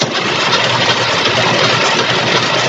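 The engine of a 1962 Cadillac Sedan Deville, freshly oiled during valve work, cranks over loudly and close up as a dense, steady mechanical churn with no break and no voices.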